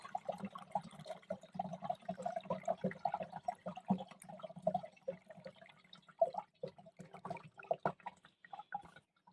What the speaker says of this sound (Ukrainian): Налила 2 літри води